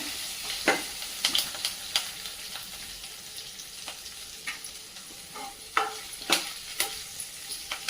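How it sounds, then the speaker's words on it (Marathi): Turmeric sautéed in hot oil in a pressure cooker for tur dal varan: a soft, steady sizzle broken by frequent sharp scrapes and clinks of a spoon stirring, close and fairly quiet, with no talking. "आता चांगलं परतून घेऊया"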